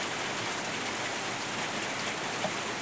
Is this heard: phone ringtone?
no